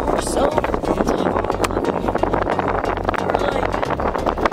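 Strong wind buffets the microphone high atop a cell phone tower in steady low roaring gusts, with a voice talking through it and faint traffic far below.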